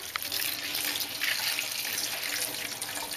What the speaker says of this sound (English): You clean them a bit with water.